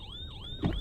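A police car siren in a taxi-driving video game gives a brief, rising and falling electronic wail, loud and close, then a dull thump cuts in near the end of the short burst.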